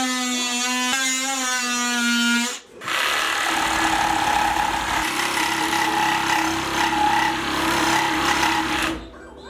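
A reciprocating saw cuts through a stair railing baluster in a loud, sustained buzzing rasp lasting several seconds. It is preceded by a brief tonal whine and a short pause.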